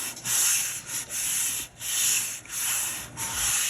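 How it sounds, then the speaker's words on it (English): Hand rubbing a vinyl decal flat onto a tumbler, rhythmic soft scraping strokes in repeated swells and dips, close and fairly quiet, no voices. "Just going to rub it down flat"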